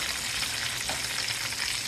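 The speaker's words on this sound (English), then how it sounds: "When there's less in the pan, you have to turn the heat down." Deer steaks fry in hot oil in a pan, with a dense, even crackling sizzle that stays steady and close throughout, with no voices.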